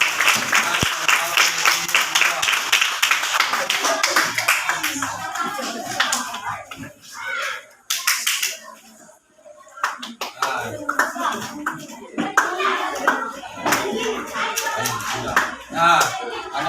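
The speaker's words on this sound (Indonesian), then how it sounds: "beri tepuk tangan untuk kelompok 2" Classroom audience of students applauding a student group after their presentation, dense clapping over the first several seconds, then fading into scattered claps and children's chatter.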